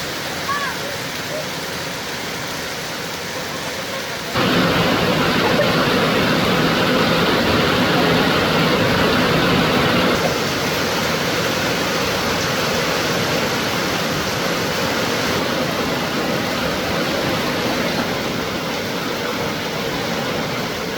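Heavy torrential rain pouring nonstop over flooded farm fields in North Karnataka, a dense steady roar that jumps louder after a few seconds and stays constant throughout, with no voices.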